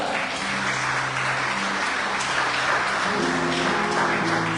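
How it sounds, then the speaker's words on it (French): A church congregation applauding and cheering for Jesus during a morning service, a steady wash of clapping and voices that stays loud throughout, with sustained musical tones underneath. "Acclame Jésus ce matin."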